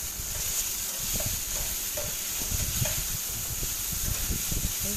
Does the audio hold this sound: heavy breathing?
no